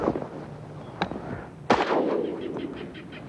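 Shotgun firing during duck hunting outdoors: a sharp loud blast followed by a second booming shot that rolls off into a long echoing tail, with a faint crack just before.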